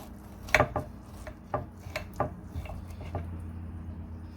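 A knife cuts into a thick, cooked pork chop on a plate, giving a string of short, close scraping and crunching strokes that fade toward the end, without speech.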